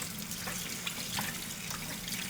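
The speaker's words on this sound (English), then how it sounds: "You want to give it a good rinse." Tap water runs steadily over raw chicken breast in a kitchen sink, a continuous close splashing trickle with no talk.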